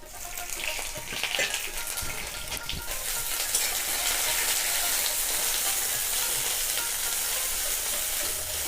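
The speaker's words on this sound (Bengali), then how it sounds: "এইভাবে অল্প অল্প করে একটু ভাজা ভাজা করে নেব বন্ধুরা" Four green chillies and a spoonful of ginger fry in a little oil with bay leaf and five-spice seeds, giving a steady close sizzle with occasional scraping stirs, no voices.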